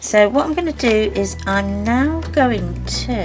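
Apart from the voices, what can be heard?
No everyday noise stands out behind the speech.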